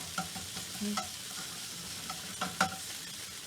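A utensil stirs Italian sausage sizzling in a frying pan, with soft scrapes and light knocks against the pan over a steady quiet frying hiss.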